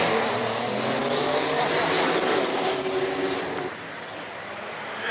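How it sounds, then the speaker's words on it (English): The M2 Diesel race car climbs the Cape Town hillclimb course, its engine a loud sustained drone at steady revs that drops away near the end as it passes. "Gary goes through with the M2 Diesel"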